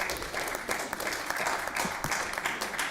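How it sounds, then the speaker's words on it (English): Applause from the audience at a public city meeting, a dense, steady wash of many hands clapping at moderate distance with no talking over it. "Hopefully you're applauding for the nice comments you made about me."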